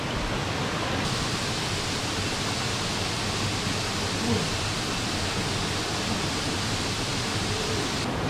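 A waterfall in Thailand roars in a constant, dense wash of rushing water, steady and loud throughout.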